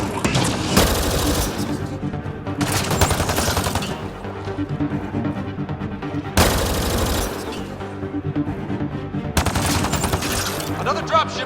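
Heavy gunfire in Mass Effect Andromeda, loud rapid bursts of automatic fire repeating in several long volleys, with a frag grenade blast booming among them and brief quieter gaps between the bursts.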